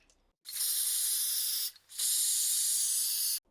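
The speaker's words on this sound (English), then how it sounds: "I'm just going to hold them here, spray them" Two long, steady bursts of a spray can hiss close by as primer coats Warhammer 40k Death Guard models, separated by a brief pause, with no talking.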